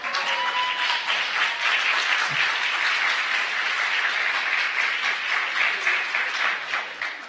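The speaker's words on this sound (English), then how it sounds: "medical students in the back, go ahead and stand up and applaud Dr." Standing medical students at a college event hosting a visit from the U.S. Army Futures Command give Dr. Salas a loud, sustained round of applause, dense clapping with a few faint cheers and voices underneath.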